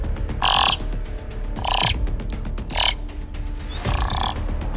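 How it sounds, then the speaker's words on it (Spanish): Raven cawing: four loud, harsh, croaking caws spaced roughly one second apart, close to the listener, with a faint low background hum between them. "El cuervo."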